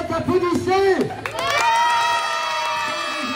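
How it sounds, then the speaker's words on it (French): A crowd cheers and shouts at a bathtub race on the water at L'Isle-Adam, with excited voices, children's shouts and whistles over scattered clapping, loud and lively throughout. "On les applaudit très fort, on les encourage."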